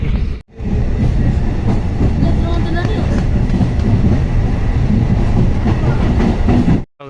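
A passenger train runs along the rails near Nayagarh station in Odisha, a loud, steady rumble with rhythmic clatter filling nearly the whole span and briefly dropping out near the start and end.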